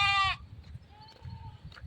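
A goat bleats once, loud and close, a short wavering cry followed by quieter rustling and a faint distant call.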